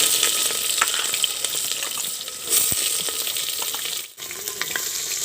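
Onion fries alongside chicken and two red chillies in a village-style curry, a constant near sizzle with spoon scrapes and clinks, a brief dip as the pan is stirred, no speech.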